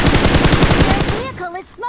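Rapid automatic gunfire from a PUBG Mobile match rattles out in a loud, fast burst, then breaks off into a few scattered shots and tonal game effects.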